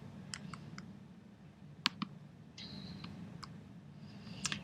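Several sharp computer mouse clicks land singly and in quick pairs over a quiet room hum, with a faint tone midway and no talking.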